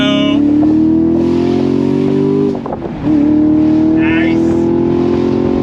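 A 2024 Chevrolet Camaro SS convertible accelerates in second gear, its V8 drone rising loud and close, then briefly dropping at a shift before climbing again. A voice talks over the engine.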